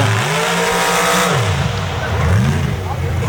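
A Ford-powered Bronco roars hard on a night record-attempt run at a Mississippi mud racing event, with a loud, continuous engine note that rises and falls as it revs, heard up close and alone.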